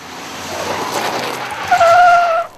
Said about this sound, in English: I've never met a bakkie that's so happy to spin its wheels on pull-off.